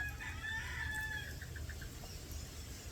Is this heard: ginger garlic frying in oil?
no